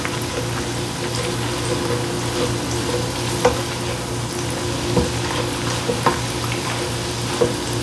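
Onions sizzling in butter in a pan, a steady close frying hiss with a low hum beneath and a few soft clicks of stirring scattered throughout.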